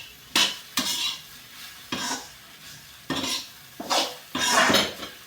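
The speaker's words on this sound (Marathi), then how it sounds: "एक वेळ हलवून घ्या." Onion and gram-flour bhaji being stirred in a pan, with a utensil scraping and clattering against the metal in about six distinct strokes. The strokes are close and fairly loud, and no one speaks.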